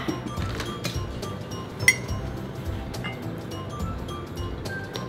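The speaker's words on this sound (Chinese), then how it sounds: "加冰块。" Ice cubes drop into a glass for a watermelon and soda drink, making several light, scattered clinks, with one sharper knock near the middle over a quiet kitchen background.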